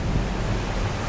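The White River near Mount Rainier, swollen and raging, gives off a steady low roar of rushing water with no break and no voices.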